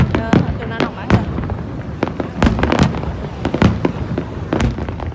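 New Year 2020 fireworks burst over Ho Chi Minh City, heard from a high-rise: loud, sharp bangs and crackles come in an irregular rapid series while people talk nearby.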